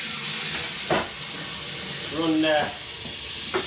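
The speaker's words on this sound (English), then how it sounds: "As you can see, steam coming off now. This just releases a bit of pressure inside." Steam hisses steadily out of a pressure cooker as the pressure is released while homemade soup cooks. A loud, continuous rush runs throughout, and a few brief knocks and a short squeak break through it.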